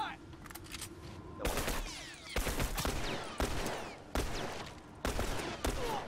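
Gunfire in the video game Apex Legends comes in several sharp bursts and volleys spread across a few seconds, fairly quiet overall over a low background murmur.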